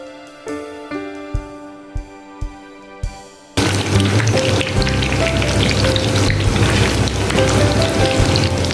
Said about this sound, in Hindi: ऑयल हमारा गर्म हो गया है। अब हम जो है पोटैटो डोनट्स उनको फ्राई करेंगे।